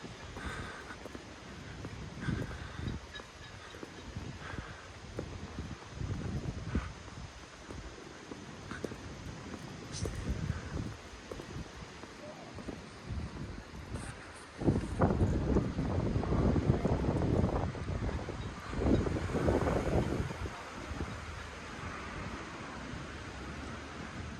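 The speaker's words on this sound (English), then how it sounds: "It might be windy around this corner." Steady wind rushes and buffets outdoors around a corner by Caernarfon Castle in Wales, gusting louder partway through with a low rumbling roar against the microphone.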